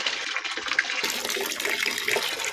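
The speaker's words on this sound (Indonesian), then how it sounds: "Tuh, deras sekali ya debit airnya, nggak seperti tadi." Strong water flow from a repaired water pump gushes loudly and steadily, a broad rushing splash that swells partway through and holds full without pause, with no talking.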